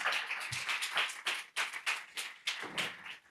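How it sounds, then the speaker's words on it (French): A small audience claps after a presentation at a sustainability breakfast event, sparse, uneven hand claps in bursts, fairly quiet and close, fading toward the end. "Merci André, on peut l'applaudir."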